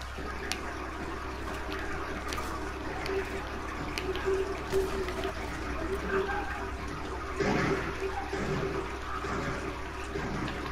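A character wades across a river in Red Dead Redemption 2, with continuous sloshing, rushing water throughout and heavier splashes near the end, under intermittent background game sounds and a speaking voice.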